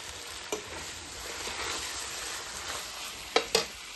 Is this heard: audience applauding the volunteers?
no